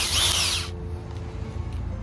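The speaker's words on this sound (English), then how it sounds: "we have the drill and we have the auger" Power drill fitted with a bulb auger attachment, whirring loudly for under a second as it spins up, then cutting off, leaving a quiet background hum.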